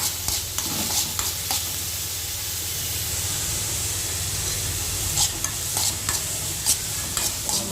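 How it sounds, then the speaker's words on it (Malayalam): Soya chunk stir-fry tossed and stirred in a hot pan, a continuous close hiss and sizzle with repeated spoon scrapes and clinks against the pan, clustered at the start and again toward the end. "നമുക്ക് തന്നെ ഇളക്കി കൊടുക്കാം."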